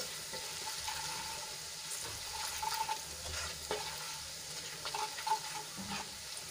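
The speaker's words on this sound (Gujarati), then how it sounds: "આ રીતે તેલમાં સાંતળી લેશું એટલે લોટની કચાશ દૂર થઈ જાય" Gram flour sautéing in hot oil with garlic and chili, a steady close sizzle and frying crackle with occasional stirring scrapes of a spoon against the pan, continuous throughout.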